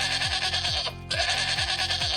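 Sheep bleating in a sunny field, a few short repeated wavering bleats close by, loud and clear with no talking.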